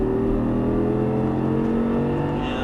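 Audi R8 engine pulling hard on a racing track, a loud, steady droning roar that holds close and constant throughout with no talk over it.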